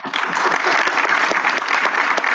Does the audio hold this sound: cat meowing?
no